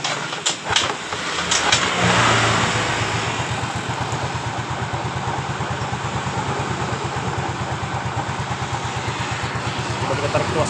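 An engine being cranked and started during a fuel pressure check, catching and settling into a steady rapid idle with a rhythmic pulsing chug, close and fairly loud with a brief rise in revs early on.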